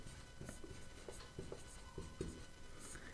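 Pen or chalk writing out a geometry area calculation for a class 10 maths exercise, faint scratchy strokes in short irregular bursts, quiet and close, no talking.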